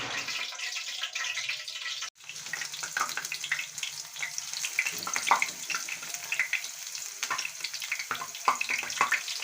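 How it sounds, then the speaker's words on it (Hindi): Crispy pakoras, made without gram flour, frying in hot oil as an iftar snack, giving a soft, steady bubbling hiss with a brief dip near the start and small pops throughout. "अब हम इसको करेंगे फ्राई, इसके पकोड़े बनाएंगे।"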